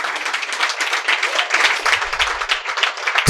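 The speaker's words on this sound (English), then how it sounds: "You got to clap it up for yourselves for coming all the way out here" An audience claps and applauds steadily for a few seconds, a dense wash of hand claps filling the room.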